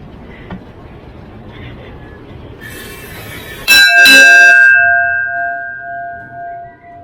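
A bell in the lookout tower of the Key West Shipwreck Treasure Museum gives one loud, close strike partway through, its bright metallic tone ringing on and slowly fading, after a stretch of quieter background murmur and voices.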